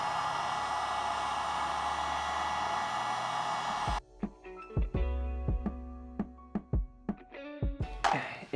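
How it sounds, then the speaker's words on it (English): A heat gun blows a loud steady roar at close range while softening the broken plastic corner of a burned BMW 335i bumper, then cuts off, followed by sharp handling knocks and clicks. "So I'll try to heat it up, melt it in place"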